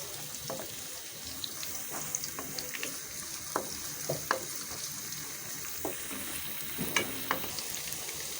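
Sliced onions hit hot oil in a pan, giving a low, steady sizzle with scattered pops and soft stirring scrapes, faint and close.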